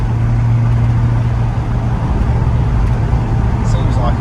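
A manual Corvette C5 with an LS1 V8 cruises along, a steady low engine drone and road noise filling the cabin while a person talks over it.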